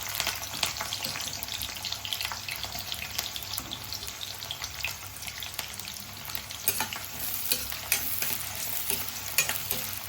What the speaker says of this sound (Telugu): ఆయిల్ అయితే హీట్ ఎక్కింది కొంచెం కరివేపాకు వేసుకుందామండి అలాగే ఉల్లిపాయలు కూడా వేసేసుకుంటున్నాను నేను